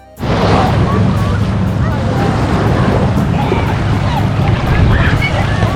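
Waves washing onto the shore of a big lake at Long Beach, a steady, close roar of surf mixed with wind buffeting the microphone, with no pause from start to end.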